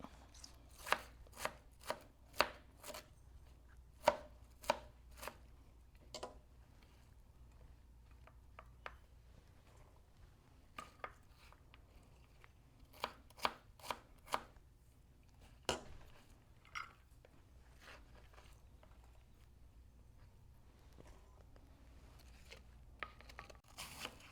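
Sharp knife chops on a cutting board through cabbage and carrot for coleslaw, quick irregular bursts of taps with brief pauses between runs, close and fairly quiet, no talking.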